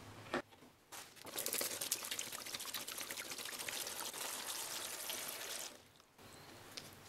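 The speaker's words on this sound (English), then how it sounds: "And now we're gonna add the water." Water is poured over ice into a DIY fan air-conditioner container, a close, steady splashing stream with crinkly crackling, starting after a couple of short knocks and ending abruptly near the end.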